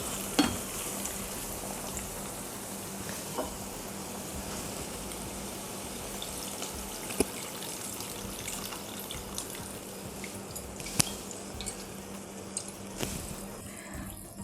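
Masala sautéing in a pan for Chidambaram goshtu, a steady broad sizzle and frying hiss running throughout with occasional small clicks of a spoon stirring, fairly close and with no talking.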